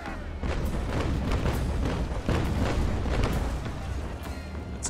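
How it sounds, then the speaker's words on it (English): Naval Action, a sailing-warship video game: a ship fires a cannon broadside, a dense rolling barrage of heavy booms that rumble together continuously and loudly. "let's see if we can get a broadside in here"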